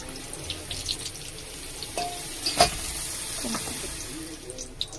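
Chicken pakoras fry in hot oil with a continuous crackling sizzle, broken by a few sharper pops and stirring clatters, close and moderately loud.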